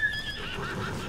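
A horse neighs in the video game Ghost of Tsushima: one short, high whinny right at the start that trails off into quiet ambience.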